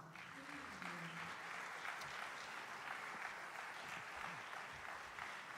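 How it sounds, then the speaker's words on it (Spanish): An audience at the World Harp Festival in Asunción, Paraguay, applauds in a steady wash of clapping, faint and somewhat distant, with voices mixed in. "A ver los aplausos para..."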